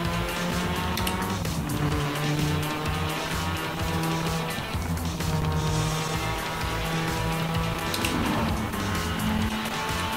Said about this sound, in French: j'ai les petits rupteurs parce que j'ai pas passé ma vitesse